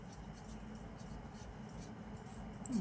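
Pen writing out a math solution on paper for a class 8 exponents exercise, a soft continuous scratching and rubbing close by, quiet and steady throughout with faint room noise and no talk.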